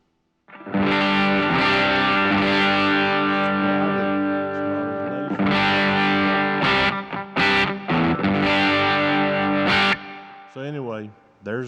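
An electric guitar played through a Deluxe Reverb amp model with impulse responses rings out loud and distorted in sustained chords and phrases, close and full, with a brief pause midway and a short warbling tail at the end.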